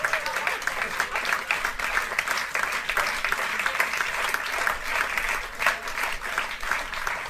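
Steady, dense applause from a live concert audience at a CD release show, many hands clapping continuously at a close, even level for several seconds.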